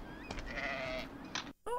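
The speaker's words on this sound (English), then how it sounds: "Aw, sheep!" Sheep bleat in a film scene, several wavering cries close together, loud and clear, with a short silent gap before a final bleat.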